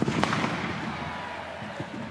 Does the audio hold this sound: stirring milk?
no